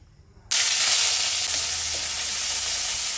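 Chopped ginger hits a little hot oil in a kadai with a sudden loud sizzle that starts abruptly and holds steady, a bright continuous frying hiss.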